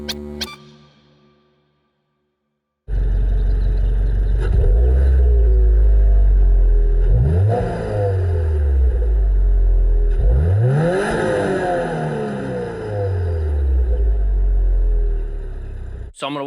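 2022 Subaru WRX with an ETS exhaust, heard up close as a short start-up blip, a brief pause, then a loud steady burble broken by two rising, falling revs.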